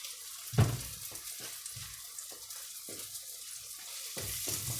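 Dough puffs fry in a pan with a soft, low sizzle, broken by a few brief knocks and clatters, all fairly quiet.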